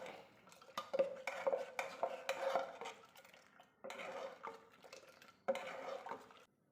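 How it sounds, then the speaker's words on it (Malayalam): Curry paste is mixed by hand in a pot with a little water, producing faint, close clinks, scrapes and wet stirring in irregular bursts with pauses between. "ഒരു കയ്യിലെടുത്തിട്ട് നന്നായി മിക്സ് ആക്കാം"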